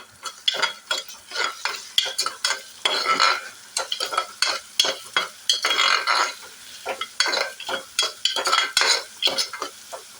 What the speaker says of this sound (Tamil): இதை நல்லா வதக்கிக்கலாம். நல்லா மிக்ஸ் பண்ணிக்கலாம்.